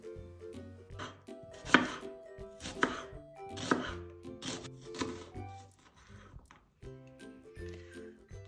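Knife chopping onions into fine strips on a board in a home kitchen, a steady series of crisp close cuts, with soft background music and no talking.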